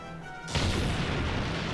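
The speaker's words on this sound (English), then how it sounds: "we should be able to destroy the bridge just with a grenade" A single loud grenade blast in Valkyria Chronicles destroys a bridge, a sudden boom that breaks into a sustained rumbling crash after a quiet moment.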